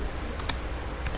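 A few quick keystrokes on a computer keyboard as a terminal command is typed, two close clicks followed by a softer one, heard alone over a faint background hiss.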